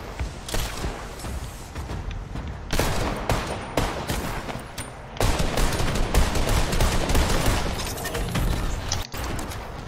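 Grenade explosions in a shooter video game, with dense, loud, crackling blasts and rattling gunfire-like bursts that swell and continue nearly without pause, growing heavier toward the second half.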